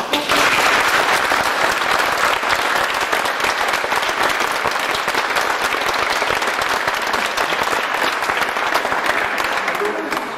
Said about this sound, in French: je vous demande d'applaudir les artistes et tous ceux qui ont préparé cette exposition